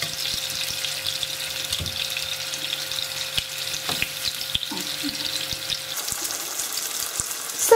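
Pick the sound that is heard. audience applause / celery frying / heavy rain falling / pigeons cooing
celery frying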